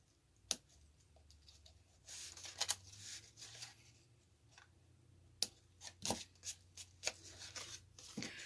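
Scissors snip quietly at the edge of a paper card, cutting it at an angle, with a few sharp clicks and soft rustling paper handling in between, close and faint.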